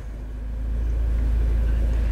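A 2018 Audi TT 2.0 four-cylinder turbo with a stage 2 tune idles in neutral, a steady low engine rumble that swells slightly and holds even, close by with no talk.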